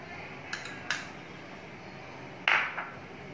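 A metal spoon clinks against a bowl while tomato ketchup is measured out for a chilli chicken sauce: three or four bright, brief taps separated by pauses, close and fairly quiet over a faint background hiss.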